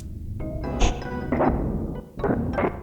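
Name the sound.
chopped sample loop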